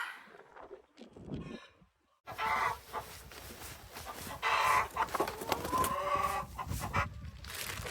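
Laying hens clucking inside a mobile coop on a family farm, a flock of about 400, with busy overlapping clucks and calls close by, broken by a brief quiet gap.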